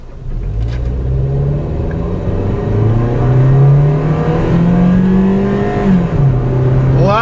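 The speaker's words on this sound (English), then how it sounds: "Getting to the acceleration of the engine" A car engine accelerates while driving, a 2015 Toyota Yaris or 2015 Honda Fit, loud and close from inside the cabin, rising in pitch through a gear, dipping at a shift, then climbing again.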